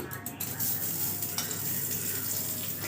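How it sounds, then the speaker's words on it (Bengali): Butter sizzles and spits in a hot wok, a steady, close frying hiss running throughout with a few faint clinks of utensils near the start. "এবার বাটার দেব কড়ার মধ্যে অল্প একটু"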